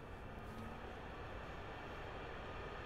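A compact Purivortex air purifier fan runs on its high setting, giving a steady, even rush of airflow noise that holds at a constant level throughout without any break.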